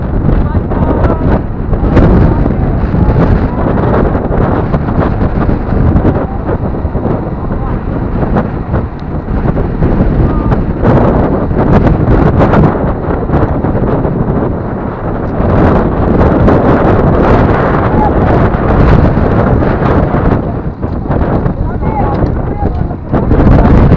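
Strong wind roars and buffets the microphone without a break while riding down a 25 km descent from Uludağ National Park. The loud, dense rush fills the whole stretch.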